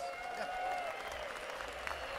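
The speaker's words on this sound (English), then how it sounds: "With a huge Barrett Jackson round of applause." A crowd at a Barrett-Jackson car auction applauds, a faint, steady wash of clapping heard from a distance with a thin background tone.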